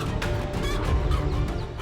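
A mother hen clucking and squawking in agitated bursts while fending off a snake, close and fairly loud, with rustling scuffle sounds beneath, no speech.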